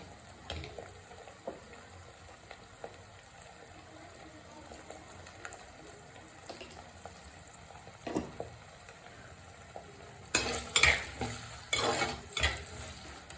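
Ingredients for anchovy thoran sauté quietly in a pan with a soft, faint sizzle and scattered clinks of stirring, and a louder run of scraping and stirring near the end.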